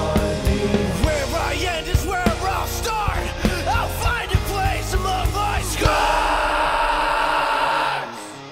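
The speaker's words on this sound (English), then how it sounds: "so that that reverb is just amplified during that scream" A sung vocal scream in a rock mix, pushed through a loud, amplified reverb so the yell blooms and rings out, then a long washy reverb tail hangs over the band after the scream ends.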